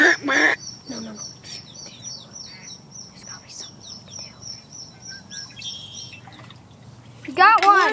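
Baby ducklings trapped in a storm drain give faint, brief peeping chirps under nearby people talking, with a louder burst of high peeps near the end.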